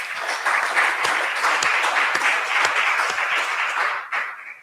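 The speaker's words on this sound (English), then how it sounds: "Let's give them a round of applause." Audience at a political forum gives a round of applause for the participants, a dense steady clapping that holds for about four seconds and then fades out.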